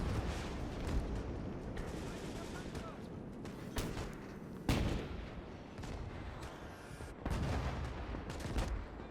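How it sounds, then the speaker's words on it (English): Mortar fire in the Gates of Hell WWII strategy game, a Soviet battle with rocket artillery and field guns, heard as repeated sharp blasts and booms over rumbling battle noise, with someone talking throughout. "This mortar is going ham."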